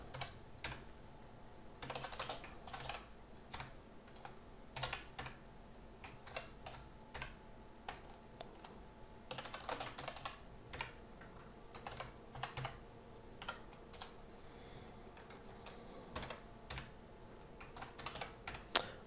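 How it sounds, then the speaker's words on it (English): Fast computer keyboard typing in bursts of rapid key clicks with short pauses, close and fairly quiet, no talking, while coding Flutter apps in Dart. "I think I'm just typing too fast for my brain."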